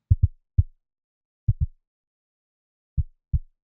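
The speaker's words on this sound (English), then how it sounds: "creating a synthesized kick drum sound" Deep, punchy synthesized kick drum hits with a quick pitch drop, arriving in short pairs and singles separated by silence, dry and close.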